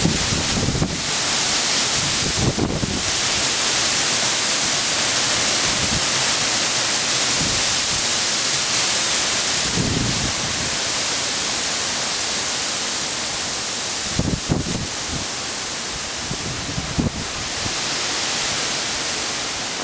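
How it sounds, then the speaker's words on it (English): Strong gusting wind the day after Hurricane Irene roars steadily as a loud, broad rushing noise buffeting the microphone, with heavier thumps of gusts every few seconds and no talk. "As you can tell, the wind is still pretty strong."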